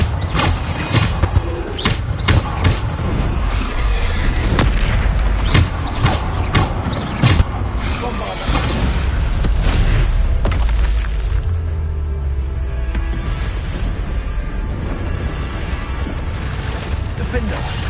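Bombarda spell blasts in the video game Hogwarts Legacy, several sharp booming impacts and thuds among clattering game effects and rumble, with a voice speaking over parts of it.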